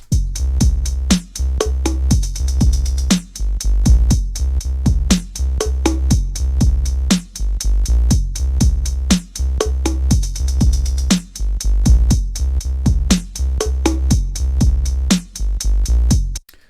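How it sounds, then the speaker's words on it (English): A punchy drum loop with a warm bass line saturated and compressed by a TASCAM tape emulation plays steadily and loud, its beat repeating in an even groove. "this is giving a wonderful tape compression plus saturation to the bass line"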